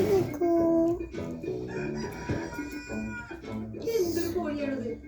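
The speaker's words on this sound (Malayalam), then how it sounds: "എന്തൊരു കോഴിയാണത്? ഒരു വ്യക്തിത്വമില്ലാത്ത കോഴി." A rooster crows near a roadside vehicle, its drawn-out, wavering calls rising and falling across the clip over a busy background with other voices and noise.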